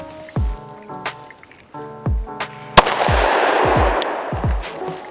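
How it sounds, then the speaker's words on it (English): Glock 43x pistol shots ring out at a 50-yard outdoor range, several sharp reports spaced a second or so apart, one especially loud crack followed by a long rolling echo, with faint voices around. "I'm gonna try to land some shots just for the hell of it"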